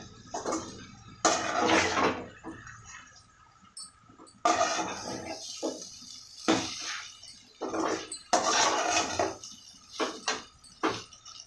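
Soaked puffed rice is stirred and fried in a pan for uggani, making intermittent bursts of rustling and scraping that come and go with short pauses between strokes.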